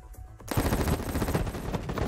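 Rapid, sustained automatic gunfire from enemies in the shooter Battle Prime erupts suddenly after a brief quiet and continues as a loud, close, rattling stream of shots.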